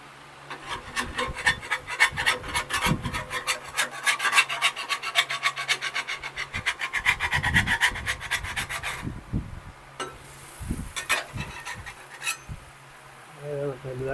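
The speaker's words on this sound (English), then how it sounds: "hopefully we can get them scraped off and get them flipped." A metal spatula rasps against a griddle top, scraping stuck smash burgers loose, in repeated close, gritty strokes that come in bursts and pauses, with a few knocks and brief low voices.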